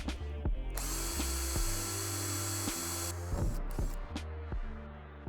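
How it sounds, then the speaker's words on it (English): A power drill bores through the metal body panel of a VW Crafter van, the motor whirring in repeated stop-start bursts with a steady high whine, close by and alone. "I'm just going to drill through on that old line, which is 3 centimetres below"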